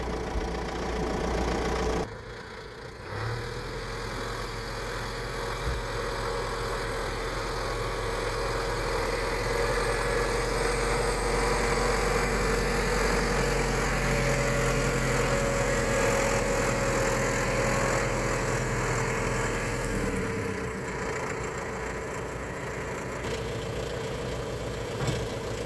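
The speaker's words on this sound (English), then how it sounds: "Zetor 1 with the loader on and the Vicon." A Zetor tractor fitted with a loader and hitched to a Vicon Extra 124 mower idles in a field, its engine a steady low drone with a brief dip and a change in tone near the end.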